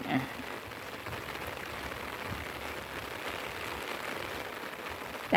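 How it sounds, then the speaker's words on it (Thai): Heavy rain falls on a rice field during traditional rice farming, making a steady, even hiss of downpour that continues without a break at moderate volume. "รู้สึกฝนแรงขึ้นแรงขึ้นเลยค่ะ"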